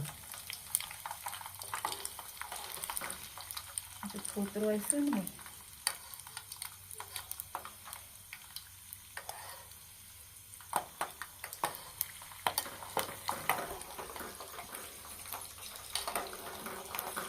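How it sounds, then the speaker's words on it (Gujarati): Peanuts frying in a pan of oil for a breakfast snack, giving a steady close sizzle with frequent stirring scrapes and clicks, and a short spoken remark partway through. "મફળી તળવાની છે."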